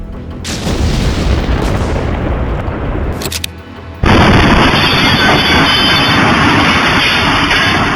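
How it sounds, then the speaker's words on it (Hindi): A sudden loud boom bursts out from an explosion at a police station during sampling, recorded on CCTV, followed by a sustained roar of noise and a high ringing tone, with no speech. "सैंपलिंग के दौरान जोरदार धमाका हुआ।"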